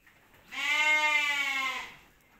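A Batur sheep at a farm gives one long, loud, wavering bleat lasting over a second, close by and alone, fading out at the end.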